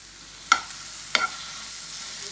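Fresh cream stirred in a pan with butter, salt and pepper: two short scraping strokes of a spoon against the pan, close and fairly clear, over a quiet background with no talk.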